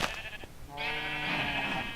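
A sheep in Minecraft: Feed The Beast gives one drawn-out, wavering bleat, clear and close, after a short softer blip at the start.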